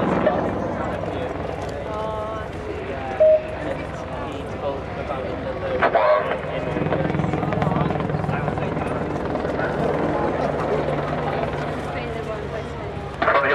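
An Apache helicopter flies at the Sunderland air show, its steady rotor thrum and engine drone running throughout, fairly loud, under a commentator's voice over the public address.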